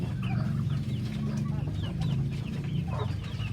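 Native Parawakan chickens, a hen and a rooster, clucking close by in short, soft repeated calls over a steady low background hum.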